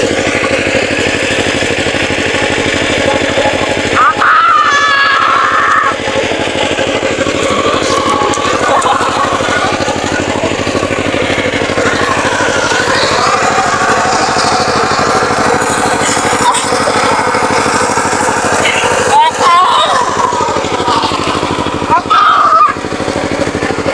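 Tractor fitted with a leveling attachment working a field, giving a steady, loud engine drone throughout with brief dips and shifts in tone; faint voices sit in the background.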